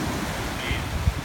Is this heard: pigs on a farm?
no